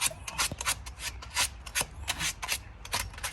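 Sandpaper from 3M rasping rust off a metal part during a flat tire repair, in quick repeated back-and-forth rubbing strokes, close and fairly loud, with no talking.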